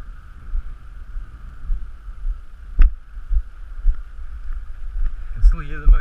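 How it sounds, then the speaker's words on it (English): A small electric motor on an auto-landing wing drone drones steadily at a constant pitch as it comes in to land, heard from a distance over low wind rumble and buffeting. "You can still hear the motor going."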